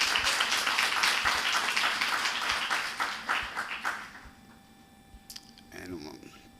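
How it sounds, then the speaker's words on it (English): Audience applause at a fisheries award ceremony, a dense crowd clapping loudly that thins into a few last claps and fades out after about four seconds, followed by faint voices. "Please give her a round of applause"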